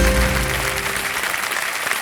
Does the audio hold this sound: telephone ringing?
no